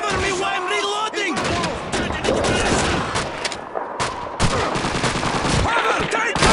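Call of Duty 2 gunfire in a World War II battle: loud, sustained bursts of rifle and machine-gun fire with brief pauses, mixed with shouted voices.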